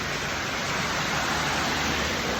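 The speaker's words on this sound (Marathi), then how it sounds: "हा पाऊस बघा किती मस्तपैकी पाऊस पडत आहे" Steady, dense rain pours down outdoors beside a parked vehicle, a constant broadband hiss with no breaks and no voices over it.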